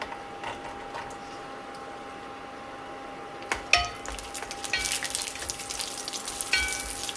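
Cashew nuts fry in hot ghee in a pan, starting with a quiet hiss and then breaking into a louder, crackling sizzle about halfway through that keeps going to the end, close and alone.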